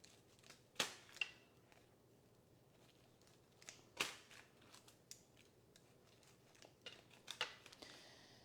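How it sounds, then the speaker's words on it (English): A few sharp snips of kitchen scissors trimming bread dough, spaced apart and fairly quiet, with faint handling noise between the cuts. "I actually just grab a pair of kitchen scissors"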